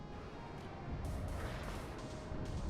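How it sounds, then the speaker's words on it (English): Uragan rocket artillery firing in the war strategy game WARNO, heard as a continuous dense rumble of launches and distant booms, fairly quiet and steady with no speech over it. "Uragan firing a few shots off into this area to kill these infantry"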